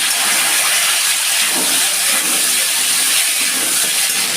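Potato pieces dropped into hot mustard oil in a kadai sizzle with a loud, continuous hiss that stays dense and even from start to finish.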